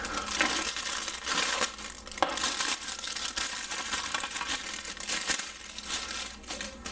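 Plastic parts bag from a 1/35 scale Takom T30/34 heavy tank model kit being cut and pulled open, giving continuous close crinkling and crackling with a few sharper snips and tears.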